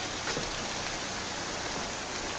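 Steady, soft rain falls in a continuous even hiss, faint and uniform with no voices.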